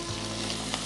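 Chopped green chillies sizzle in hot tempering oil, a steady close frying hiss with faint crackles throughout, no voices.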